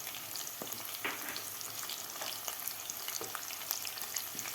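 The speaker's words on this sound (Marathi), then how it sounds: "यामध्ये घालायचा आपल्याला कढीपत्ता." Curry leaves crackle and sizzle in hot oil with onion being sautéed for masala khichdi, a steady frying hiss with scattered sharp pops throughout, close up and without talk.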